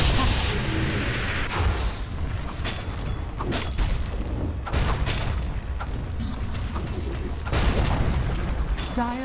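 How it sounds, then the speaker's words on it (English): A tower crumbles in a Dota 2 match, a dense, loud barrage of booming impacts and rumbling debris that runs continuously, with heavy blasts layered over game noise. "Dire's middle tower has fallen."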